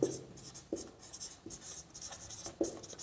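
Chalk or marker writing on a board during a chest physiotherapy lecture, with faint scratchy strokes and taps arriving in short irregular bursts at close range.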